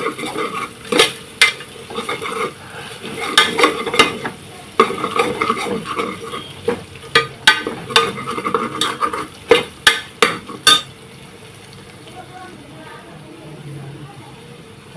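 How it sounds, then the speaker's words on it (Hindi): A spoon stirs garlic, ginger and onion frying in oil in a pressure cooker, giving repeated sharp metal scrapes over a steady sizzle that continues alone once the stirring stops. "इसको हल्की हाथों से ऐसे ऐसे चलाना है।"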